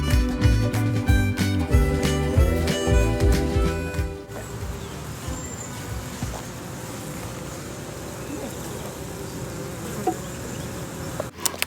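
Honey bees buzz steadily in a bee yard, a dense, continuous hum that is louder at first with a tonal drone, then settles into a softer, steady swarm sound.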